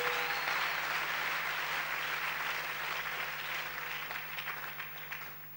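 Church congregation applauding together, a dense steady wash of clapping that holds for several seconds and slowly thins toward the end, with no voices over it.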